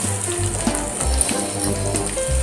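Onion going into garlic frying in a pan gives a steady, moderately loud sizzle throughout, with light stirring scrapes under it.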